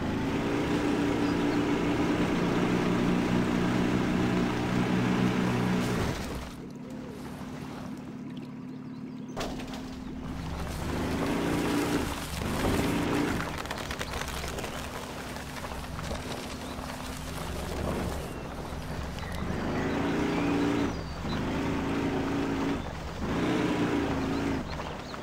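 A 1997 Toyota RAV4 engine in the Spintires off-road game drones steadily and close for about six seconds, then drops away, leaving intermittent rumbling bursts.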